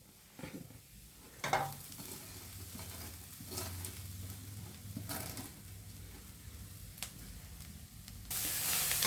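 A spoon stirs grated paneer through egg bhurji in a hot pan, giving soft scraping strokes and occasional sharper clinks over a low sizzle, with a burst of hiss at the end and no talking.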